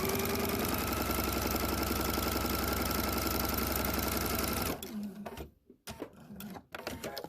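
A sewing machine runs steadily, stitching quilt fabric pieces for flying geese blocks, loud and continuous for about five seconds before it stops and leaves quieter handling noises.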